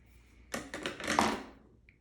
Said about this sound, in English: So I'm going to cut on those little lines right there, snip it right up.